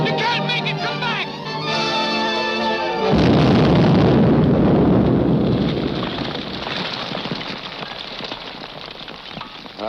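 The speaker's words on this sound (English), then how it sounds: "That explosion got Grogan, too." A big explosion in a film bursts at once and rolls into a long crashing roar with debris. It follows a short stretch of musical score and slowly fades while staying loud.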